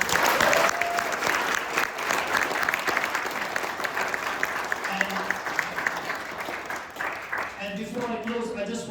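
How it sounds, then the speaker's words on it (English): Audience applause fills a UK Parliament room after a Tibetan cultural performance at a Losar celebration: dense, steady clapping from a crowd that carries on throughout, with a few brief voices near the end. "I hope you will all join me in giving them a big round of applause."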